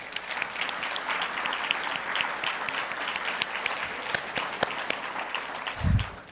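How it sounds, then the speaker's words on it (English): Even, continuous applause from attendees at a green building summit luncheon, a moderately distant wash of clapping hands with a brief low thump near the end. "Please give them a round of applause."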